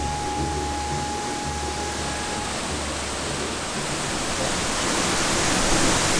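A waterfall rushes with a steady, loud broadband roar heard close up. The spot is being worked for gold panning, and the sound is unbroken, with no voices.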